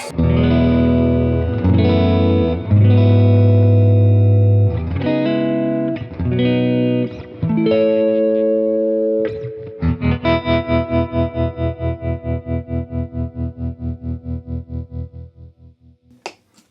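Warm, thick distorted Eastman T386 semi-hollow electric guitar on the neck pickup plays held chords and short phrases, ending in steady repeated chugging chords that gradually fade; no talking.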